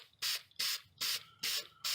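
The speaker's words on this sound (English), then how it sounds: "I'm going to go ahead and spray a nice thin layer over this" A spray can lays clear acrylic gloss coating over a cosplay utility belt in five short, even hissing bursts separated by brief pauses, close by and quiet overall, with no talking.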